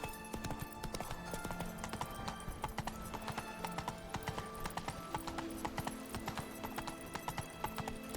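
Horse galloping in the video game The Witcher 3: Wild Hunt, a fast, steady run of clip-clop hoofbeats close up throughout, with a dense layer of game ambience underneath.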